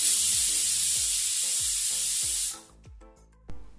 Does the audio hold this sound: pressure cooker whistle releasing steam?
yes